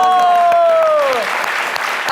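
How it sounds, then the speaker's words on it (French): A studio audience on a French midday TV show applauds for Jenny. A gliding musical tone slides downward and fades as a broad wash of clapping takes over for the rest. "Applaudissez pour Jenny."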